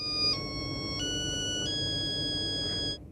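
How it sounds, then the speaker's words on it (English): A custom-composed cell phone ringtone from a new phone with a built-in music composer: a clear electronic melody of sustained tones stepping through three or four pitches over a steady low background hum, ending after about three seconds. "This new phone also comes with a music composer, so you can create your own unique cell phone ring"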